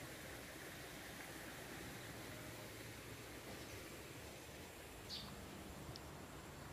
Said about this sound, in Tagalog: Running water yan mga kaprops.